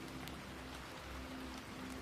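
Steady rain falls with an even, continuous hiss, and no other sounds stand out.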